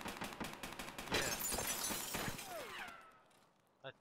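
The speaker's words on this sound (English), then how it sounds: "That's a lot of gunshots. You hear that?" Gunfire in Escape From Tarkov, coming from inside the health resort: rapid bursts of shots in a fast, sharp rhythm, followed by a trailing ringing tail and one last short crack.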